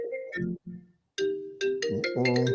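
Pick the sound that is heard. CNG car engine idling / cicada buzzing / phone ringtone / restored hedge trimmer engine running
phone ringtone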